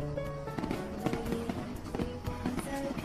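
Fireworks bursting at a birthday celebration, a dense run of cracks and pops close by with music or tones running underneath throughout.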